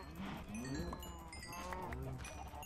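Sheep in the video game Minecraft bleat repeatedly, several wavering calls overlapping at close range against a steady background of game sound, with no speech.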